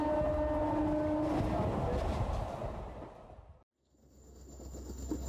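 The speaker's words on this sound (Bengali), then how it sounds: "ট্রেনটা নিজের আসল গতি তুলে নিয়ে ফুরুত করে প্ল্যাটফর্ম ছেড়ে বেরিয়ে যায়।" A train gathers speed and pulls away from a station platform, its heavy rolling rumble loud at first and then thinning out before cutting to near silence and a faint return.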